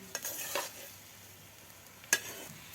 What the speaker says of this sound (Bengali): আর একটু তেল দিয়ে নেড়ে নামিয়ে নেব।